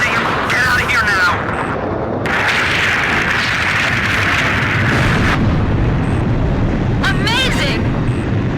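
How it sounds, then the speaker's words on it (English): Missile explosions in Ace Combat 5 boom as broad, heavy blasts, mixed with rumbling battle noise and radio chatter voices that cut in and out over the din. "Big missiles coming this way!"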